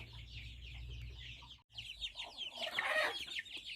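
Chickens cluck in a cluster of short, rapid calls, fairly close inside a chicken house, with a brief pause midway before the clucking picks up again more busily.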